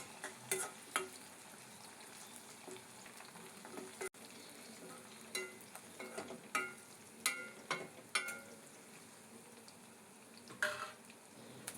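Small onions sautéing in a pan for a garlic kulambu, a soft continuous frying hiss broken by repeated sharp spoon scrapes and taps, close but quiet, no speech.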